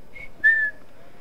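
A short two-note whistle from a character luring a guard in Assassin's Creed 3, inside Bridewell Prison, with a brief high chirp followed by a longer, louder steady tone, clear over a quiet background.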